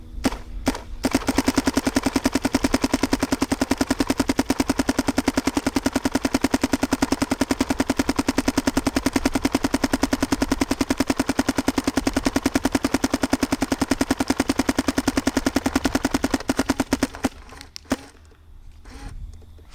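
A paintball marker fitted with a Dye MXR update kit and fed by a CRBN DRV loader fires in one unbroken, rapid machine-gun-like stream for about sixteen seconds, loud and close, then stops abruptly with only faint handling sounds afterward.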